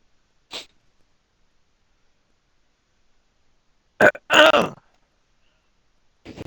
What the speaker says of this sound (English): Clear my throat, man.